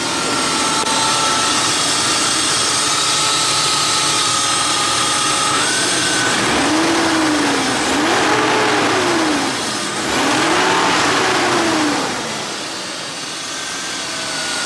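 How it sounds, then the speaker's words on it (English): A BMW E36 328i engine, freshly fitted with new spark plugs, settles at idle and then gets a few quick throttle blips whose pitch rises and falls in swoops before dropping back, loud and close with no talking. "So let's see what it sounds like with a little blip"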